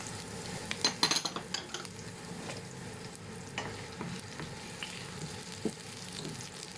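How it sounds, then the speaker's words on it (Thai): Shallots and garlic fry in hot oil for a Thai roasted chili paste with minced pork, giving a steady, moderate sizzle and bubbling, with several sharp stirring clinks near the start and occasional scrapes later. "จากนั้นเราก็มาทอดหอม กระเทียมค่ะ"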